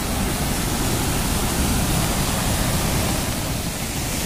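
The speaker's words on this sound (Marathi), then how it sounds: "ते वरून पडणारं पाणी आणि ते खालून अशा पद्धतीनं पाणी वाहत आहे" Waterfall at the Isrup lake spillway in Washi, Dharashiv, with water pouring from above and flowing on below, a loud, unbroken hissing roar at close range with no voices.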